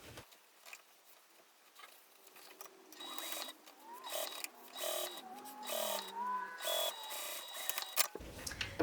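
A home sewing machine stitches along the bottom of a pocket lining, its close, rapid patter running in uneven bursts and speeding up midway before stopping near the end.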